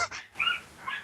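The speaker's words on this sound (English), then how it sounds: "If you hear some yapping in the background, it's my new dog" A small dog gives quick high whimpers and yips, a few short bursts close by in about a second.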